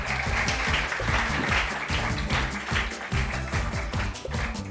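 Studio audience at a summer talent-show finale clapping to greet the arriving judges, a dense, steady wash of applause with a rhythmic pulsing beat underneath throughout.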